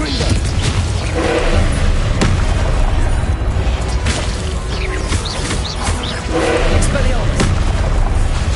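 Confringo blasting spells explode repeatedly in a Hogwarts wizard duel game, loud booming bursts and crashing impacts overlapping in a dense, chaotic stream, with voices mixed into the battle noise.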